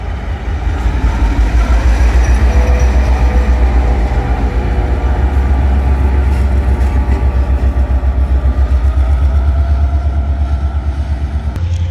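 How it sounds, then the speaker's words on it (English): A locomotive-hauled train rolls along the tracks out of a station in Bosnia, a loud, steady rumble with rhythmic wheel clatter and a low engine drone throughout, close by and without talk. "Now the locomotive will follow another track and just maybe leave the station."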